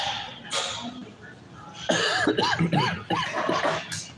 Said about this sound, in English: I'll be coughing a few